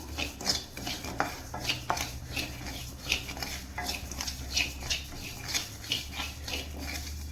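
Black gram dry-roasting in a pan is stirred with a utensil, producing repeated scraping and clinking strokes in an irregular rhythm over a low steady hum, close and moderately loud.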